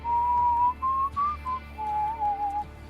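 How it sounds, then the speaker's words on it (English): A thin, steady whistling tone heard around a car, pitched high and wavering slightly as it stops and restarts in short stretches, faint against a quiet background with no talking. "You hear this whistling coming from your car."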